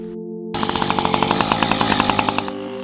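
A petrol chainsaw starts up and runs loud and close, its two-stroke engine pulsing in a steady, rapid rhythm before dropping back toward idle.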